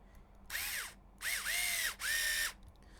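A cordless screwdriver fitted with a 2.0 bit drives screws during a radio-controlled HPI Venture SBK model build, giving three short whirring bursts with rising and falling motor pitch, close and clear against a quiet room.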